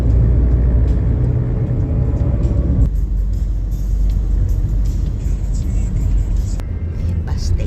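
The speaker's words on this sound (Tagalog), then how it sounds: "Bumper to bumper." Bumper-to-bumper road traffic near NAIA airport in Manila rumbles steadily close by, with a dense wash of engine noise and passing vehicles, a low drone throughout.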